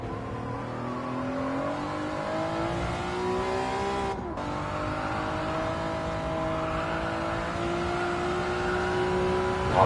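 Honda NSX race car in GT7 at Interlagos, engine revving loud and continuous with rising and falling pitch through gear changes, a brief drop mid-lap, pushed hard under late braking.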